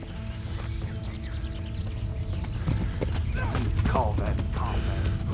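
Horse hooves clip-clop rapidly in a steady galloping rhythm in the video game Kingdom Come: Deliverance, with a whinny and a voice speaking over the hoofbeats.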